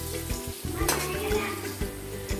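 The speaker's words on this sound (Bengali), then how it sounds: "এটাকে আমরা ভালো মতো করে নাড়াচাড়া করে লাল লাল করে ভেজে নেব" Potatoes fry with turmeric and salt in a hot pan, a steady sizzle broken by repeated scraping stirs, close and moderately loud.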